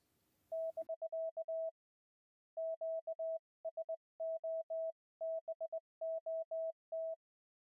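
A standalone CW keyer's steady electronic Morse code tone beeps on and off in short and long bursts with pauses between groups, clean and alone against silence.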